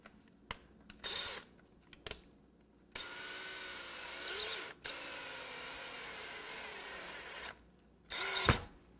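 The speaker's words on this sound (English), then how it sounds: "I'm going to drill down until it goes into the board" An electric drill whirs in short bursts, then runs steadily for several seconds as a screw drives into a wooden board, ending with another brief burst.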